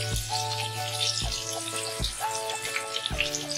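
Spice paste with tomatoes frying in a pan for pabda fish curry with curry leaves gives a continuous close sizzle, while a low humming tone with gentle periodic thumps runs underneath.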